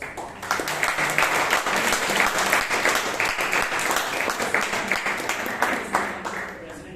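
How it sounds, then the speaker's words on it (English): Sustained applause from a Toastmasters meeting audience in Bangalore, dense and steady clapping filling the room for several seconds at close range, with a faint voice or two underneath. "Can we have a big round of applause?"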